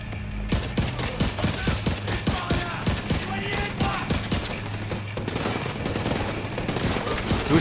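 Turret fire in The Division 2 shooter video game rattles in fast, loud, close bursts of machine-gun shots that run almost continuously, with brief gaps.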